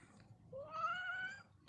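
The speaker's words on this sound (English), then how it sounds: "so that was our extra special live greeting from Lucky Cat" A cat gives a single rising, drawn-out meow, close and fairly quiet over a faint background, with no talking.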